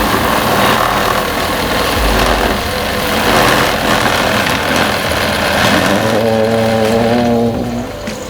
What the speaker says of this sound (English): Let's spin that cotton candy.